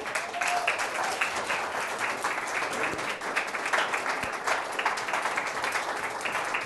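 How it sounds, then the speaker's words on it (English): Steady applause from an outdoor audience at an opera picnic, dense, even clapping held at a constant level throughout with no voices over it. "Guys, give everyone a round of applause, please."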